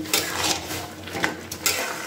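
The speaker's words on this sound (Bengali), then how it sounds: "এবার খুব ভালো করে এটাকে মিশিয়ে নেব" A spatula scrapes and clinks against a pan while Pui Metuli chorchori, a vegetarian dish with sugar added, is stirred, giving a few soft scuffs and taps with no talking.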